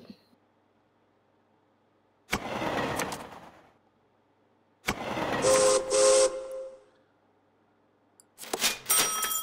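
Steam locomotive whistles in a train video game: three separate bursts, a hissing blast near the start, a longer shrill whistle with a steady tone mid-way, and a louder one at the end, with near silence between them.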